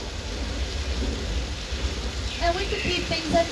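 Steady simulated rainfall from overhead sprinklers on a studio backlot tram tour, a constant wash of falling water with some faint indistinct voices rising in the final second.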